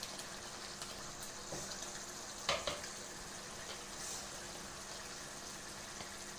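Tomato gravy with turmeric, chili powder and salt frying in a pan, a faint steady sizzle with a couple of brief stirring knocks; no talking.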